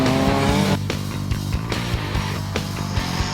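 A turbocharged 2-litre race car drives out front into the first turn of a circuit race, its engine note held loud and steady, then interrupted by a series of sharp, evenly spaced bursts and bangs.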